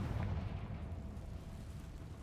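A Confringo spell explosion in the video game Hogwarts Legacy, a single loud, deep booming blast that decays into a rumbling tail, heard alone.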